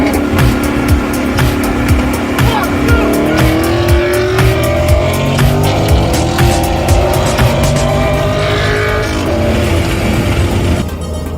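A twin-turbo C8 Corvette accelerates hard, its engine roaring loud and close with rising revs and gear changes over about eleven seconds, with sharp clicks and pops scattered through the steady, dense engine noise.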